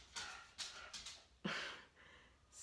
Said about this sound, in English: don't bark, buddy